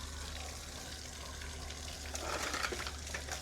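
Faint, steady running water flows continuously, swelling a little louder and more splashy toward the end, with no voices.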